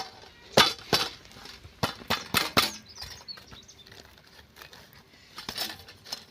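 A crisp, freshly roasted bhakri flatbread is crumbled by hand. A string of sharp, dry cracks and crinkles comes in uneven bursts, close and clear, followed by softer rustling.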